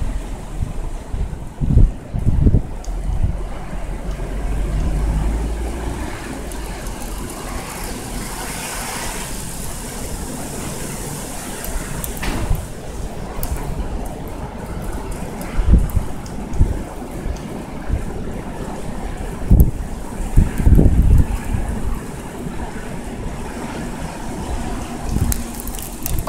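Storm Eleanor batters Amiens, France, with strong wind roaring continuously across the microphone, buffeting and gusting louder in bursts over a steady rushing background.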